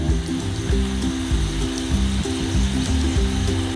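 Sweet somas pastries fry in hot oil over a medium flame, a steady close sizzle with continuous bubbling, crackling texture and no talk.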